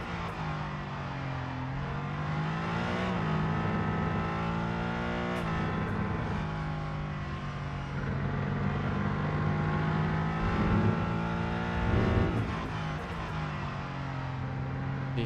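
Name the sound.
race car engine in Rennsport racing video game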